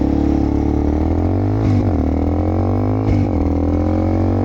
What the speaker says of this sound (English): We're going to drive this bike until it actually runs out.